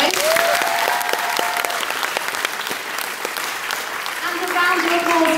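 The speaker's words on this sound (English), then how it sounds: "A round of applause for all of these guys." Steady applause from an audience fills the whole stretch, dense clapping with a few voices and cheers rising in places.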